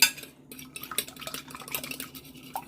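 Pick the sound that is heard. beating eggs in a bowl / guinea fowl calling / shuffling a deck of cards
beating eggs in a bowl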